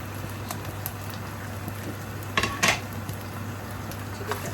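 Onions go into a pot with browned garlic and ginger for beef mutton curry, giving a few clanks of a utensil against metal, then a soft low sizzle under a faint steady hum.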